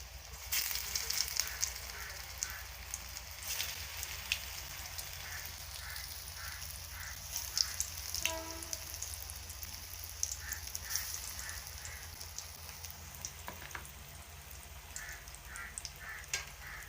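Kachoris with gram, potato and gourd frying in very hot oil, a steady close sizzle running throughout with a few faint outside calls in the background.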